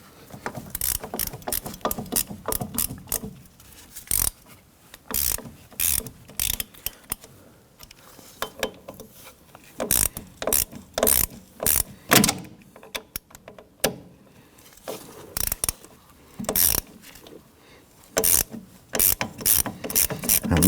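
A 1/4 inch ratchet with a 10mm deep socket loosens bolts on a 2017-2020 Hyundai Elantra rear brake, giving loud, close bursts of rapid clicking ratchet strokes in repeated runs with brief pauses.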